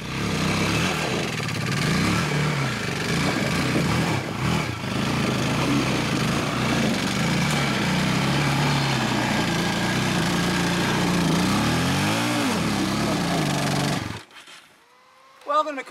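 A motorcycle on a mountain trail revs and drones steadily close by, its engine pitch rising and falling for most of the stretch before cutting out abruptly, with a voice talking briefly near the end.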